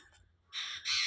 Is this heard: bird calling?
yes